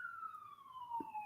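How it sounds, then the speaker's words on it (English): An ambulance siren wails past in a steady, slowly falling tone, moderately distant and alone, with a brief low thump near the end. "that's the ambulance."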